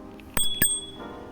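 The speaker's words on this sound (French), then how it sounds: "On a la sonnette," Two quick dings of a small handlebar bell on a Yadea KS6 Pro electric scooter, close and bright, with a ringing metallic tone that fades out.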